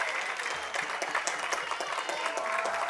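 Stadium crowd applauding steadily after a goal in a Windsor City FC versus North Mississauga SC soccer match, a dense continuous clapping wash heard from a distance with no talk over it.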